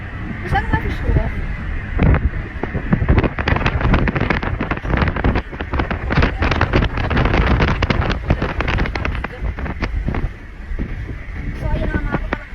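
Steady gusting wind roars against the microphone throughout, with people talking intermittently over the rumble.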